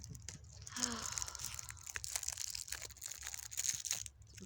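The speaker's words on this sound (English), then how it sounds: "Some plastic wrap." Plastic wrap around a newly unboxed phone wallet crinkles and crackles in brief bursts, close and fairly quiet, with rustling packaging handled throughout.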